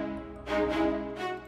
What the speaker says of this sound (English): he layers the staccato with a tremolo